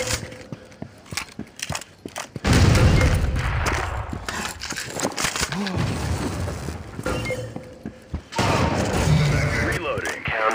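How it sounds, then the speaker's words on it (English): Grenade explosion in the video game Critical Strike, a loud booming blast at about 2.5 seconds followed by continuing gunfire and rumbling, with another heavy burst near 8 seconds; voices talk over the combat. "Grenade out."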